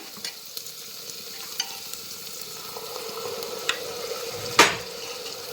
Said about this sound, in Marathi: आता आपण त्यामध्ये आता टोमॅटोची प्युरी टाकून घेऊया